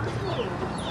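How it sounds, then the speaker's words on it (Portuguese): Chickens in a backyard coop cluck and murmur softly in a brief, continuous stretch of low fowl chatter with faint bird calls above. "olha o galinheiro dele. Que legal. Um monte de galinha."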